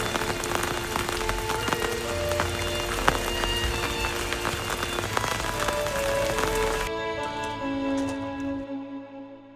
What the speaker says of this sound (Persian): باران هنوز می‌بارد.